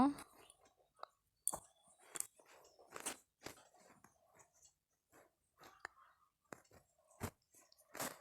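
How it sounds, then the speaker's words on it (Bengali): Someone eats roti at dinner, with soft, intermittent chewing and mouth clicks close to the mic over near silence. "এবার রুটি খেয়ে নেব"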